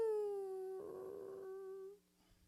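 A voice imitates a dog howling at night on a dark street: one sustained, wavering howl held for about two seconds, close and alone, with a brief noisy swell in the middle.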